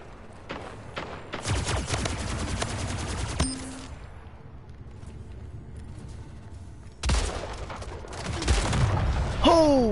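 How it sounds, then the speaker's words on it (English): Rocket blast and heavy weapon fire in the sci-fi arena shooter Splitgate, with dense rapid bursts early on, a sharp explosion near the end, and continuous loud game action throughout. "Oh, that was a rocket."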